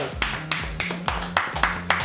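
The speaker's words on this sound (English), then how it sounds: "Round of applause." Sharp, evenly spaced hand claps after an F1 Academy pit stop involving driver Chloe Grant, about eight distinct claps in two seconds over a low background hum.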